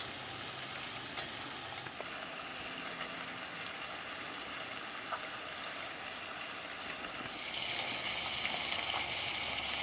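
Two big burgers fry slowly in a pan toward well done, a soft steady sizzle at a distance that grows a little brighter and louder near the end, no talk.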